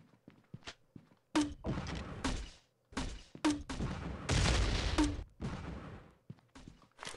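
Gunfire in the mobile shooter Pixel Gun 3D during a battle royale match: a series of loud, sharp bursts and thumps, several close together, with quieter footstep-like taps between them and no talking.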